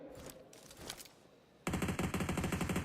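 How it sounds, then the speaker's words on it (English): Dense, rapid automatic gunfire in PUBG Mobile during a World Cup esports tournament match erupts suddenly after a quieter stretch of distant shots, then continues loud and sustained with rhythmic bursts to the end. "Mafioso barely can peek out before the bullets whiz past his forehead"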